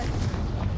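A Confringo blasting spell explodes in Hogwarts Legacy, a short muffled boom with a rumbling low burst and no speech over it.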